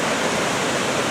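A waterfall at New River Gorge, West Virginia, swollen with April meltwater, roars as a loud, dense, unbroken rush with no voices over it.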